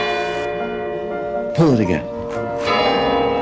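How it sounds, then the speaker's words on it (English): Kremlin church bells ring in a steady, sustained peal, with a voice briefly speaking over the middle of the ringing. "the bells of the Kremlin are ringing again"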